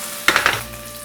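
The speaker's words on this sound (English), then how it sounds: "Add the potatoes and fry them both sides until beautifully brown" Potatoes and thyme hit a hot pan with a brief burst of sizzling and a clatter of utensils, then settle into a quiet, steady fry, heard close with no talking.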